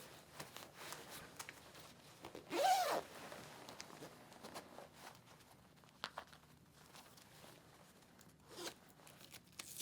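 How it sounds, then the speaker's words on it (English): A motorcycle race suit is zipped up in a quiet room with one quick, close zipper pull, followed by faint rustling of leather and soft shuffling steps. "before we begin to zip up, really kind of stretch into it"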